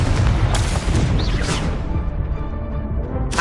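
Incendio fire spell cast in the video game Hogwarts Legacy, a loud roaring whoosh and booming burst of flame that fills the clip, close and sustained without speech.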